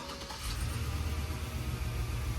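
A 2005 Chevy Express box truck engine runs steadily at idle, a loud, close, even low rumble with a slight pulsing throb and no talk over it.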